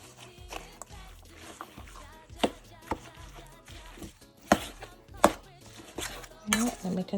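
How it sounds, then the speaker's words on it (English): A spoon stirs a seasoned chicken meatball mixture in a bowl, making soft, muffled scraping with occasional sharp clinks against the bowl's side. The sounds are fairly quiet and irregular, and a voice is faintly present. "Let me continue stirring up."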